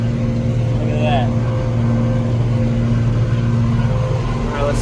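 A tractor numbered 2675 pulls a deep tillage implement through dirt, its engine holding a steady, loud, droning hum with a low rumble throughout, while someone talks over it.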